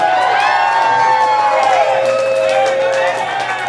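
Crowd at a final music show cheering and clapping as a drummer comes up, sustained whoops and shouts with scattered clapping, loud and continuous.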